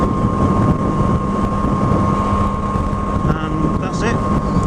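Heavy, constant wind roar buffets the microphone while riding a Yamaha MT-09 motorcycle in wet weather, loud and unbroken throughout, with a faint voice briefly audible beneath it near the end.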